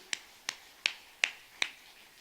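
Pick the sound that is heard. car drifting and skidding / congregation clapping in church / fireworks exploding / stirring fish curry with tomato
congregation clapping in church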